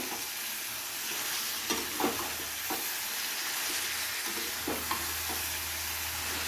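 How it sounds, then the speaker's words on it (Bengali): Chicken pieces with spices are stirred in a hot pan, a steady sizzle and frying crackle punctuated by several scraping knocks of the spoon against the pan, close up and without talk. "চিকেনটাকে দেওয়ার পরে মশলার সাথে খুব ভালো করে মিশিয়ে নিতে হবে।"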